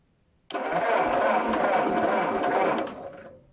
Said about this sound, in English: And then we're going to crank the motor over.